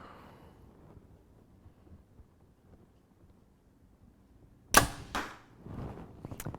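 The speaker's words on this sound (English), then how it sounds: "hear the arrow hit the target" A quiet stretch of faint wind noise, then a sharp thwack of an arrow shot from a 2023 Mathews Phase 4 compound bow striking a target, followed by a few softer rustling impacts.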